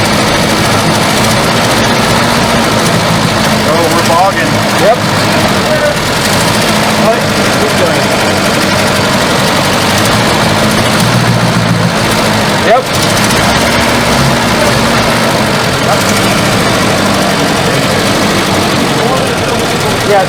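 A 1974 Volvo 142 engine runs continuously at close range, a loud, steady drone with a few small stumbles as it bogs on throttle. Voices speak over it.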